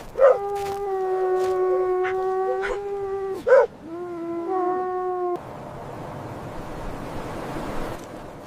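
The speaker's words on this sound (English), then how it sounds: "Large frosted Arctic wolf." Arctic wolf howling in long, steady, loud tones, with one howl after another, then a wind-like whooshing rush for the final few seconds.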